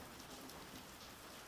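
Steady rain pattering outside a window during a thunderstorm: a soft, even wash of drops that sounds faint and distant, with no distinct thunderclap and no voices.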